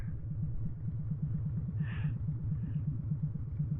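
A Harley-Davidson motorcycle cruises on wet, flooded streets at Ocean View in Norfolk, its steady low engine rumble loping evenly throughout, close and continuous with no talking.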